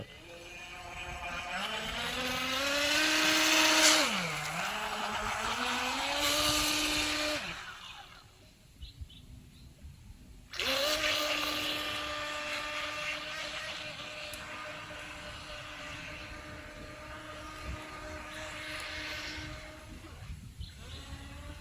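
A WL&XK 915 radio-controlled 2.4 GHz speedboat runs on open water, its small motor whining as it revs up and down. The sound cuts out briefly midway, then returns as a sustained high buzz.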